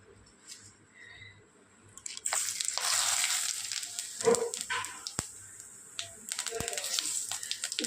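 Whole spices crackle and sizzle in hot oil left from frying a hilsa fish head, the burst starting loud after a quieter stretch and continuing with sharp pops, a dog barking faintly now and then in the background.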